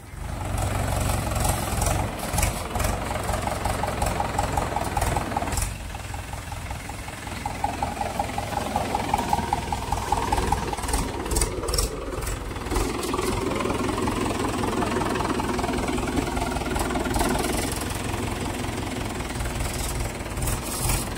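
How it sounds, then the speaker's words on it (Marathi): A tractor engine runs in a village field during ploughing, a steady mechanical drone with rattling pulses that shifts in loudness partway through, heard from a moderate distance. "ट्रॅक्टर चालू आहे तिकडे"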